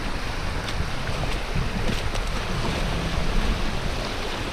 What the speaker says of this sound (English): Some nice rollers coming in, nice little rolling waves coming in